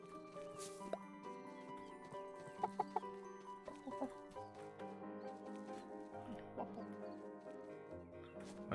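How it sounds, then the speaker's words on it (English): Chickens clucking in the video game Staxel, soft, scattered clucks and small patter sounds over gentle background game music, fairly quiet and at a middle distance. "much chicken sounds."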